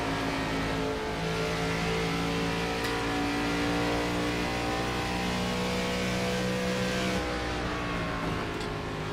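A NextGen race car's engine in the iRacing game at Auto Club (Fontana) holds a loud, steady high-revving drone, with its pitch shifting and a drop near the end, and no speech.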